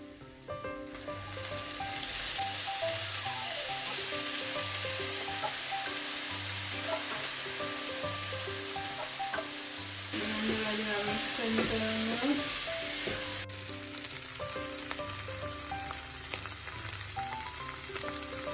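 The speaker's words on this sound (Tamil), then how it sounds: "இப்போ இந்த வெங்காயம் பொரி பட்டுடுது" Onions sizzling and frying in a pan while cooking coconut milk rice, with a steady loud crackle throughout, occasional stirring and utensil clinks, and background music playing underneath.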